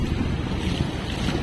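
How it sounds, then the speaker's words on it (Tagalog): A boat engine runs at low throttle heading out on a rough sea, a steady droning rumble with a weak exhaust water spray, blended with wind buffeting the microphone and the wash of waves, loud and unbroken throughout. "Minor lang ang takbo ng guwan, minor lang andar ng makina."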